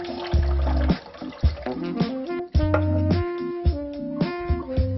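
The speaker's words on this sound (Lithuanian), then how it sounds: "Nupilame vandenį." Water being drained off blanched spinach, a soft pouring and splashing rush under steady background music.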